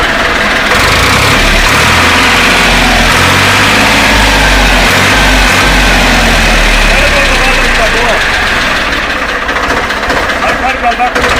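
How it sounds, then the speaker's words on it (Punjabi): A brand-new tractor engine rumbles steadily at idle after starting, loud and close, with a voice talking over it. "ਇਹਦੀ ਆਵਾਜ਼ ਵੀ ਬਹੁਤ ਪਿਆਰੀ ਹੈ ਮੈਂ ਮਾਰਾ ਸਟਾਰਟ ਕਰਕੇ ਵਿਖਾਵਾਂਗਾ ਤੁਹਾਨੂੰ"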